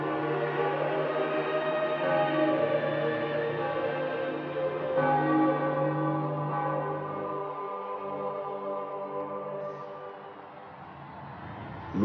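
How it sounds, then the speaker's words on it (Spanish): Church bells peal at the Vatican as a new pope is announced in March 2013, several bells sounding together in a steady, sustained wash of overlapping ringing tones that fades slightly near the end. "pronto comienzan a sonar las campanas"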